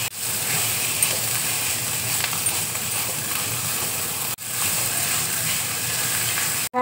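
Boiled potato goes into a brinjal stuffing frying in a pan with salt and turmeric, giving a steady, even sizzle that holds throughout with faint stirring, cut by a brief break.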